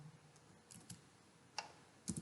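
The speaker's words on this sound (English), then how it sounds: "I am typing that one." Several faint, scattered keystroke clicks on a computer keyboard while writing HTML code, soft and sparse with a couple of brighter taps near the end.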